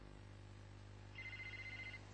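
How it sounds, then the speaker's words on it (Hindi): A telephone rings indoors in a dubbed Turkish drama, a faint electronic ringtone sounding steadily over a low hum for about a second. "फोन।"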